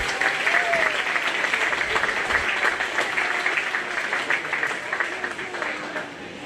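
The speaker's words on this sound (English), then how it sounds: "Give these guys a round of applause for coming out here." Crowd applause at the Greene County Fair, a sustained burst of many hands clapping that stays loud throughout and tapers slightly toward the end, with a few voices and cheers mixed in.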